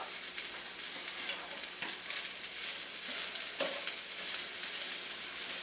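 Fried rice with pork and peas sizzles steadily in a hot pan, with occasional scraping stir strokes over a continuous bright frying hiss, close and fairly loud with no talk.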